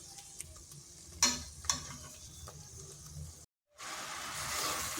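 A raw papaya naru mixture is stirred in a pan until dry, giving soft scraping and faint sizzling with a couple of sharp utensil knocks, then a brief cut and a louder hissing sizzle.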